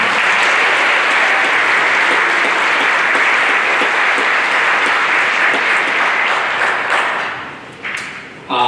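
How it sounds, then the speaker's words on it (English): Audience applause at a high school spring concert for a performer, dense and loud, sustained for several seconds before tapering off into scattered claps near the end. "How about one more round of applause for Tori Winter?"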